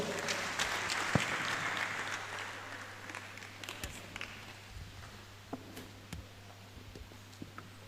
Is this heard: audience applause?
yes